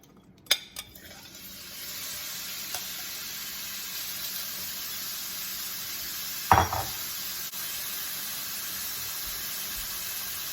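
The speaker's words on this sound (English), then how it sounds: "I have a skillet here, a hot skillet. I'm going to add some olive oil to the bottom of the pan. And to this, we're going to add our shrimp." Shrimp going into hot olive oil in a skillet over medium heat, a faint steady sizzle with a couple of sharp utensil clinks and one louder burst of hissing midway.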